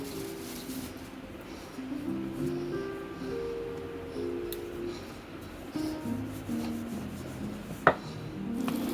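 Rolling pin working layered lachha paratha dough on a board, giving a steady soft rubbing and scraping that runs throughout, with one brief sharp knock near the end.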